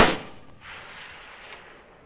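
A single sharp gunshot from target shooting cracks at the start, followed by a fading echo that rolls away over the next two seconds.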